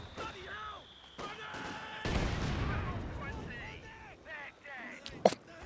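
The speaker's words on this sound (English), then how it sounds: "How long is the HE barrage? Oh no, it's so long." A high-explosive artillery barrage lands in Company of Heroes 2 as a heavy rumbling blast, with scattered gunfire and a sharp crack near the end. Voices from the game murmur around it.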